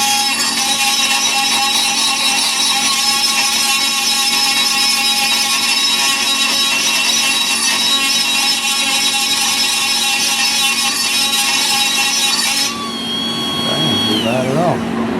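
A loud, continuous high-pitched power sander with an 80-grit disc whines throughout, close and steady, with a brief dip and change in pitch near the end.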